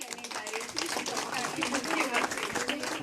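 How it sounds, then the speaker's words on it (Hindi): An audience at an International Women's Day event claps loudly together, a dense burst of hand claps that is sustained and close, with voices mixed in. "उन सब से गुजारिश करूंगी कि स्वयं के लिए एक बार जोरदार ताली"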